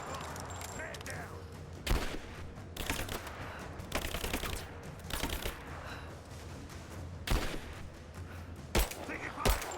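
Bursts of gunfire in the Rise of the Tomb Raider prison shootout come in several sharp volleys spread across the stretch, with a player's voice speaking intermittently between and over the shots.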